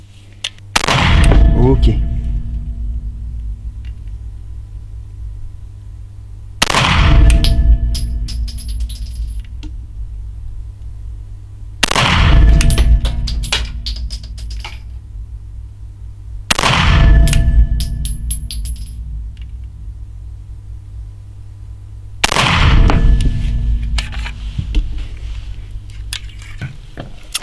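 Five loud, separate pistol shots from a Heckler & Koch P30 V3 in 9x19 fired at a target about 12 to 14 metres away, each sharp crack followed by a long ringing decay, spaced several seconds apart, with a brief spoken word between.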